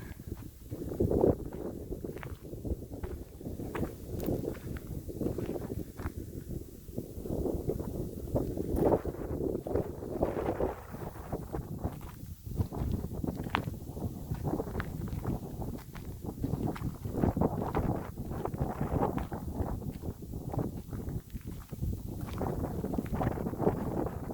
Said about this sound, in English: Even though it's a little cool with this wind, it certainly feels nice.